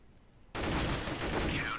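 A Counter-Strike headshot on de_nuke: after a quiet moment, a sudden loud burst of rapid gunfire breaks out and keeps rattling to the end, close and dense.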